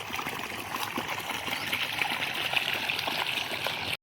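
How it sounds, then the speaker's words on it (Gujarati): Irrigation water runs steadily from a pipe into a furrowed field plot, the pipe having sat unused for two or three weeks; a continuous hissing, splashing flow stays close and even throughout, with no voices. "આ ક્યારામાં જો પાણી જાય જ છે."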